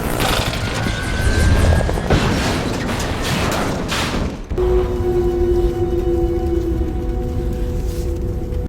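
A helicopter in a movie scene with a dense, loud rotor and engine roar that drops abruptly to a steadier, thinner whine with a lingering tone.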